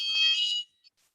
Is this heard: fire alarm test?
yes